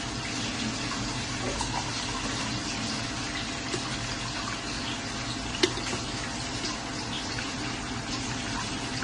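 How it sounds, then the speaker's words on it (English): Coffee poured from the glass jug of a Tower grey coffee maker into a mug: a steady liquid stream running continuously at close range, no speech. "I'm going to pour this in my mug"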